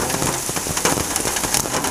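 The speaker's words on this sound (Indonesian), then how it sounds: "Hujan terus." Rain falls steadily on a surface beside a street siomay vendor's stall, a dense, even hiss with scattered patters of drops, heard briefly and without talk.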